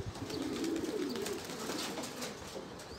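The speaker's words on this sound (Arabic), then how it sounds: "دابا يبداو يطيرو من هاد الشجنة لهادي، يبداو يطيرو هكا كيرصيو الحمام كيرصي." Pigeons coo softly in tree branches outdoors, a low burbling call repeating over a hazy background without speech.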